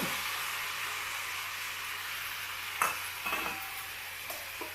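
Tomatoes, green chillies and coriander fry in a pan for onion chutney, a continuous close sizzle under a low hum, with a few sharper scraping stir strokes near the end.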